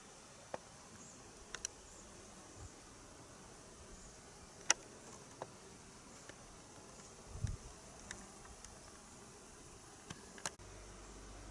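Honeybees from a spring swarm buzzing faintly around a low-consumption hive, a soft continuous hum in quiet outdoor air, with a few scattered sharp ticks and light knocks here and there.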